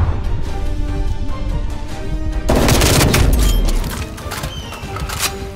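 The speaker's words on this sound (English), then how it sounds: "Stun grenade out." A stun grenade bursts in Call of Duty: Cold War. A loud, sharp crack lands midway and sends a broad crash that fades over the next seconds, following a busy stretch of background game noise.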